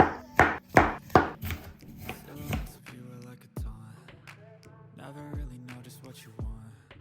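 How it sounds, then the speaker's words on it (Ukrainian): A knife chops mushrooms into quarters and halves tomatoes on a board for an English breakfast, with a quick burst of loud close chops at first, then sparser separate cuts and knocks. "просто печериці ріжемо на 4 частини, все. А помідори навпіл."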